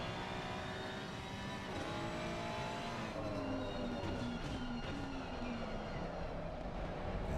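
V8 race car engines in a racing video game, a steady droning roar with engine pitch sweeping down and up at moderate distance, no voices.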